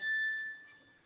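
A thin, pure, high whistling flageolet harmonic on a violin, held briefly and fading away, soft and alone with no other sound.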